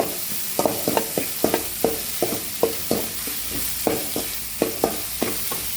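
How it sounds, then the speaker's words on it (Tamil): Ingredients for homemade kothu parotta are sautéed in a pan until golden, making a steady sizzle punctuated by regular rhythmic clacks of a spatula stirring, close and clear, with no speech. "வதக்கிட்டே இருங்க பொன்னரமாக தேவையான அளவு உப்பு போட்டுருங்க"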